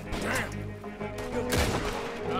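Gunfire in Red Dead Redemption 2, heard as a burst of booming, cracking shots and impacts over a dense, rumbling game soundscape.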